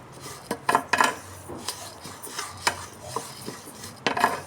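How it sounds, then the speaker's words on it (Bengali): Mung dal being dry-roasted and stirred in a pan, giving a series of light scraping, clinking stirs that come in uneven bursts, close and fairly quiet with no talking. "মুগ ডালটাকে আমি হালকা ভেজে নেব, খুব বেশি ভাজার প্রয়োজন নেই"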